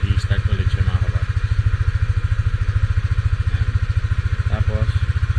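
Yamaha Aerox 155 scooter engine idling steadily after a keyless start, a close, even low throb with a rapid regular pulse running throughout, with a few brief faint sounds over it.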